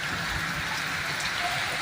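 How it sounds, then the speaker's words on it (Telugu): Moderate rain falls steadily at the four-road junction in Kalluru, a dense, even hiss of drops on surfaces that continues without a break and with no voices. "చినుకులతో మొదలైన వర్షం మోస్తారు పాటుగా కల్లూరు నాలుగు రోడ్ల కూడలిలో కురుస్తున్న దృశ్యాలు"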